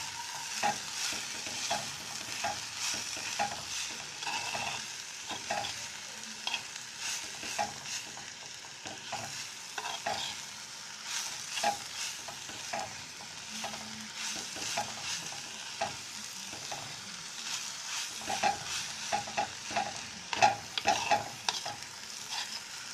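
Grated coconut mixture is stirred in a pan, giving a soft ongoing sizzle with frequent quick scraping strokes of the spoon, fairly quiet and close.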